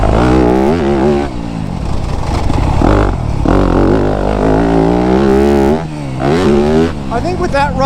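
A Yamaha YZ250F dirt bike engine ridden hard and fast, loud continuous revving that rises and falls with throttle changes, close up, with a rider's voice talking over it at times.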